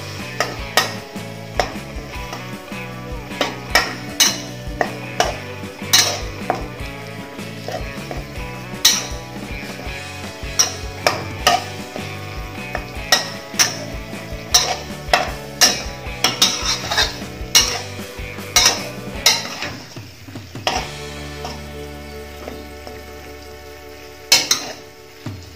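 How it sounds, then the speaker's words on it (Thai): Thai curry paste stir-fried in a pan with coconut cream, rapid metal spatula clinks and scrapes against the pan over a soft sizzle, steady and close, with background music. "เดี๋ยวเราผัดเครื่องแกงจนหอมแล้วนะครับ"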